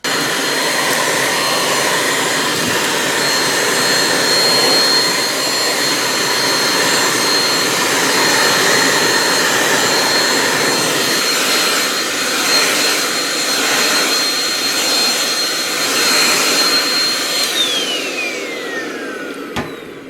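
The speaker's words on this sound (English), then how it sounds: "So once again, this was the Meiyou stick vacuum." A Meiyou stick vacuum cleaner runs with a steady, loud whine and broadband rush close by, continuous for most of the stretch before the motor winds down and cuts off near the end.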